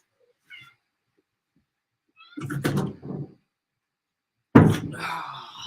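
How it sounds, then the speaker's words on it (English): Cat at a house door, with a faint meow followed by louder thumping and rattling at the door and a final sharp bang with a trailing meow, close by in a quiet room. "My cat is at the door."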